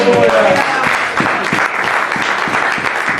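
A church congregation claps and cheers in praise during a French-language sermon, dense continuous applause filling the room with a few louder individual claps, voices mixed in.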